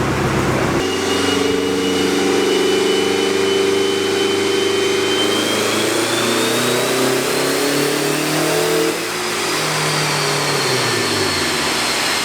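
A quad-turbo Honda Civic engine on a dyno revs up with a loud, rising droning whine, holds high, then cuts out abruptly and winds down in pitch as it shuts off.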